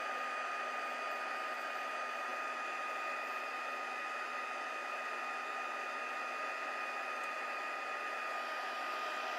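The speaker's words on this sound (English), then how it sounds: "Now that my heat tool is pretty hot, this won't take too long." A heat embossing tool blows hot air in a steady, even whoosh with a constant whine, close and unbroken from start to finish, with no talking.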